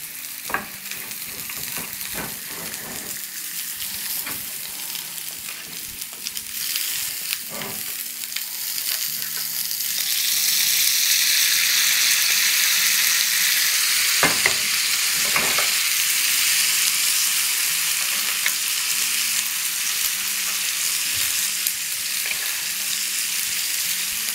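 Mutton chops and onion sizzle in a hot oiled pan, a steady close frying hiss with occasional stirring clatter that grows louder and fuller partway through.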